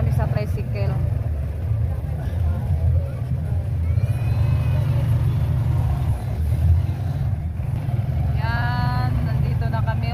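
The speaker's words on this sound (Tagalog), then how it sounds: "Mag-party muna kami sa tricycle." Motorized tricycle engine droning steadily through a ride, a moderate rumble under intermittent talk.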